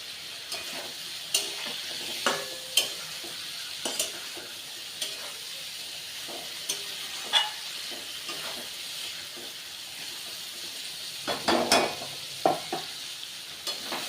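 Masala paste with slit green chillies fries in oil for a Bengali chanda fish curry, giving a steady hiss with sharp spatters and the scrape of a spoon stirring now and then, close and continuous.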